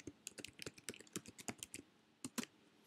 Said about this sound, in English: we're going to type the word describe in all caps